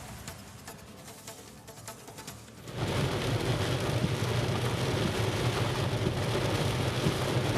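Heavy rain pours in Yelahanka, Bangalore, during the season's first downpour. A softer patter swells abruptly partway through into a loud, dense, steady roar of rain on surfaces, with no voices.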